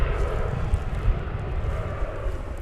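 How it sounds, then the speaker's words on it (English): An American Airlines Airbus A321 arrives from Las Vegas at DFW Airport, its engines a steady, broad jet roar that holds at close range with no voices over it. "Flight coming in from Las Vegas, flight 2649, American Airlines. It's an Airbus A321."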